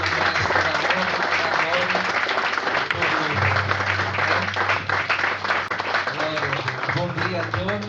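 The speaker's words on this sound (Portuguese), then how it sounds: "Vamos dar a Jesus uma salva de palmas." A church congregation claps steadily throughout, broad sustained applause with voices and music mixed in beneath the clapping.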